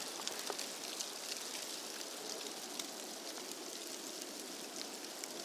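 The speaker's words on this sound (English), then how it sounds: "And it just started hailing." Hail falling outside as a storm moves in, a dense steady patter of small hard impacts with scattered sharper ticks, heard alone at a moderate distance.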